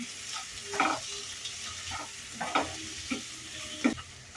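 Onion and tomato frying in a pan for mushroom masala, a low steady sizzle broken by several rhythmic spatula scrapes and stirs, close and clear with no speech.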